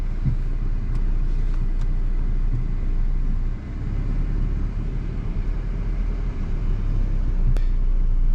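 Dacia Duster SUV with a 1.3-litre 150 hp engine and EDC automatic gearbox, shifted into reverse at low speed: a steady, low engine hum and cabin rumble with a few faint clicks, heard from inside.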